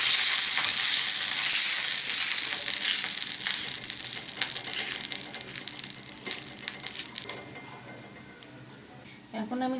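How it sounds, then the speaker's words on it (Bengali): Wet cotton cloth dipped in an oil-water mix wiping a hot iron chitoi pitha mould, loud hissing sizzle and steam that fades over several seconds into faint scraping and crackle. "একটা এরকম সুতি কাপড় দিয়ে ভিজিয়ে ছাঁচটা ভালো করে মুছে নেব।"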